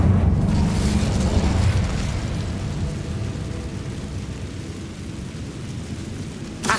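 The Incendio fire spell in Hogwarts Legacy bursts out as a loud whooshing roar that slowly fades into a long, rumbling tail, followed by a faint crackle at the very end.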